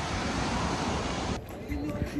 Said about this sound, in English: These breaking waves right on the sand.